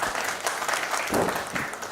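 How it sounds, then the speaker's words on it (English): An audience at a radio convention press meet applauds, a dense wash of clapping holding steady and fairly loud throughout the short moment. "Let's give Farhan a round of applause and certificate."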